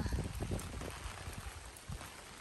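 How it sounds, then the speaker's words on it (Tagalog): Heavy rain pours steadily onto a hard surface in the Philippines, a dense continuous patter with occasional louder splashes, close by and without any voices. "Grabe po talaga ang ulan"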